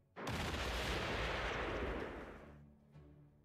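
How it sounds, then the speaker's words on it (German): Artillery fire in the Panzer Corps Gold strategy game, Poznan 45 scenario: one loud, sudden boom that fills the clip and rolls off over about two seconds, with a fainter echoing thump near the end and no talk. "noch mit der Artillerie drauf zu schießen"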